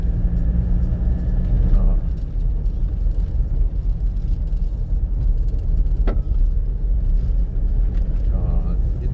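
Road traffic in Davao City, a steady low rumble of engines with a few passing vehicles and a horn-like tone, heard under ongoing talk.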